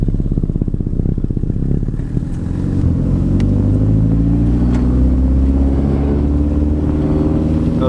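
Daily-driver car engine heard from inside while driving off, a loud low rumble with clattering that rises steadily in pitch as it accelerates through a gear, no talk.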